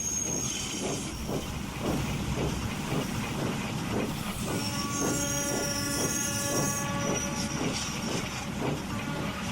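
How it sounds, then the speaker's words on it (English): A steam locomotive runs along the rails with rhythmic chuffing and a steady clickety-clack of wheels. A sustained hiss of steam and a few whistle-like tones sit over the beat, which stays loud and close throughout. "Later, Henry puffed into the yards and found Gordon being replenished with coal."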